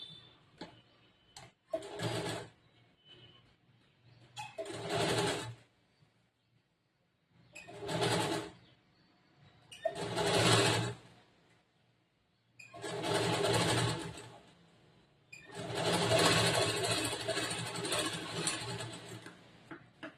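A sewing machine stitches a blouse in short, separate bursts of rapid mechanical chatter, a few seconds each with quiet pauses between, the last run longer, heard close up with no talking.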